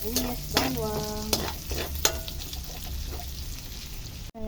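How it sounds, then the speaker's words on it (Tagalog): Onion and garlic sauté in oil as a pot of pinakbet gets started: a continuous sizzle broken by sharp utensil clinks and stirring scrapes, close and moderately loud with no talking. "Ayan, nagigisa na ako ng sibuyas, bawang."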